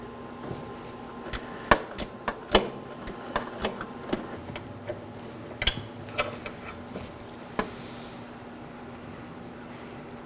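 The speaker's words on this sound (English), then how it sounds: "Now for the innermost bolt, I'll be using a 12mm and a ratchet." A ratchet on a 12mm socket works loose a hood hinge bolt on a 2013-2019 Nissan Sentra: a scattered run of sharp, close clicks and metallic ticks, some louder snaps among them, over a quiet steady hum.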